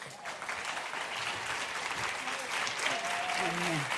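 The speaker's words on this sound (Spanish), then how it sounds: "Un fuerte aplauso." A conference audience at a union women's event applauds steadily for four seconds, a dense, even wash of clapping with faint voices mixed in.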